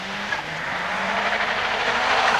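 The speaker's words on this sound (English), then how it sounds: "Fine sight these Ford Sierras look as they streak along that bit of paved circuit at the back of the course there." Ford Sierra Cosworth race cars streaking along a paved circuit at the 1988 Race of Champions, a distant, sustained engine drone with rising pitch throughout, no voices.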